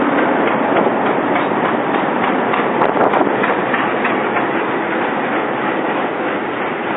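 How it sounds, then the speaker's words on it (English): Train arriving at a station in India, a continuous loud rumble and rattle of rolling stock with a brief sharper clank midway, steady throughout and no voices. "That's my train just arriving there."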